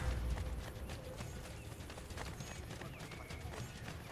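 Horse hooves clip-clopping in Assassin's Creed Brotherhood, a steady galloping patter with game ambience beneath, no talk over it.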